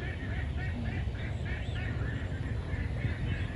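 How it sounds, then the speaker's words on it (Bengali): A young eagle calls repeatedly at a distance, thin high cries at a steady rhythm over a low background hum. "ঈগল পাখির বাচ্চাটা এখনো ওই পাড়া বাড়িতে, মানে প্রতিদিনই ওর ডাকাডাকি শোনা যায়"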